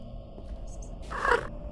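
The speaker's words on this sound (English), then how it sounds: "Is that a cat?" A cat in the Prototype Mansion video game gives a short, strained cry that rises briefly over a low, steady background hum, loud for about half a second.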